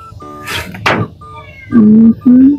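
A cat meows twice, loud and close, after some rustling and a thump.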